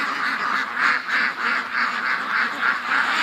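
A yard full of ducks honks and quacks loudly and continuously up close, a steady pulsing chorus of agitated calls with no talking over it.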